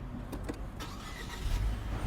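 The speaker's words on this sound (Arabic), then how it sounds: "لما يقول لك دج سيلف معناها شغل السياره" A car starting, with brief mechanical clicks and whirs followed by a low engine rumble building toward the end, close by and without talking.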